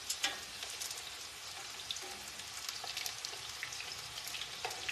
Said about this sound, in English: Now we can just let that fish fry.